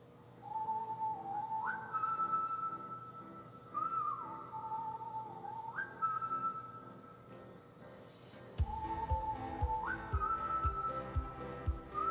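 A K-pop song plays, opening with a bright whistled melody line over a soft backing before a beat with bass drops in near the end, steady and fairly quiet.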